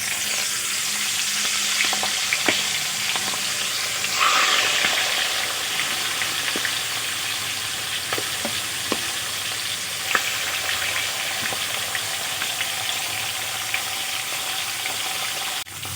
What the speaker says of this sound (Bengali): এইভাবে উল্টিয়ে পাল্টিয়ে মাছের মাথাগুলো আমি ভেজে নেব।